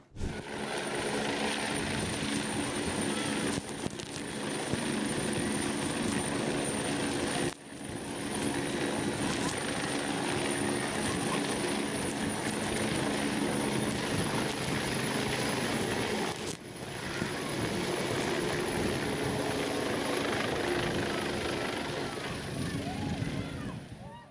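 Firefighting helicopters roar loudly and continuously overhead, their rotors and engines droning steadily with only brief dips in the noise.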